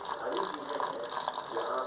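Water pours steadily into gram flour (besan) in a home kitchen while pakora batter is being mixed, a brief, soft, close trickling with a faint voice underneath.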